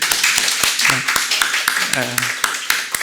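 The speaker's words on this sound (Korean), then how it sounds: "저기 보시고 환영의 박수 한번 해야 될까요?" A church congregation gives a short welcome round of clapping, crisp individual claps in an uneven rhythm, while people talk over it.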